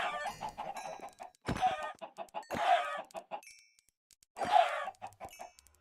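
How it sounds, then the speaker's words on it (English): Chickens clucking in the Minecraft modpack Modern Skyblock 3, several bursts of squawking clucks separated by quiet gaps, fairly close and moderately loud, with no talking. "I completely forgot about all these chickens"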